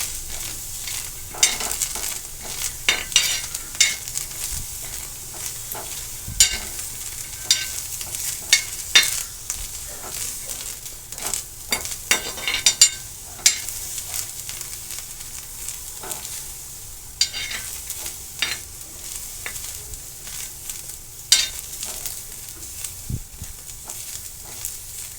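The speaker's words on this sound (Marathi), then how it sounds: "मी आता गॅस पेटवून आता हा पावटा थोडा भाजून घेत आहे" Field beans (pavta) are dry-roasted in a pan over a gas flame. A continuous soft sizzle runs throughout, with repeated scraping and stirring clicks as they are turned.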